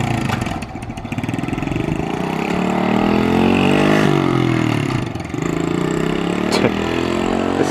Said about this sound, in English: We're gonna ride this now, the pit bike.